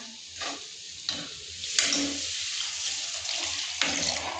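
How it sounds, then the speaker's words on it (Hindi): Water splashes into a hot pan of fried Yippee Maggi noodles and sizzles loudly, with sharp bursts of hissing and stirring scrapes up close, no talking. "अबे मैं पानी डालबो"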